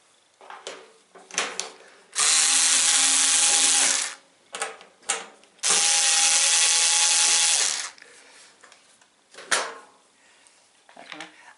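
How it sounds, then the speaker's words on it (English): A powered screwdriver drives screws while fitting the feet on an electric heater, in two loud sustained bursts of about two seconds each, with handling knocks and clatter between them. "it's so much quicker with this screwdriver, isn't it?"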